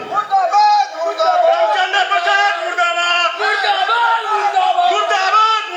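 A crowd of villagers in Bihar loudly chants protest slogans in unison while driving a BJP candidate out of their village, voices close, dense and rhythmic throughout.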